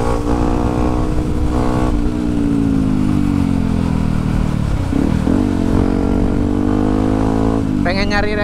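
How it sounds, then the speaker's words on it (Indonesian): Motorcycle being ridden on the road, its engine droning steadily close by with rising and falling revs, while someone talks over it throughout. "Motor udah jadi mah, bawaannya pengen jalan terus"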